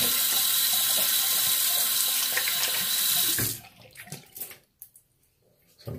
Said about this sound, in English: I'm gonna rinse off really quick here.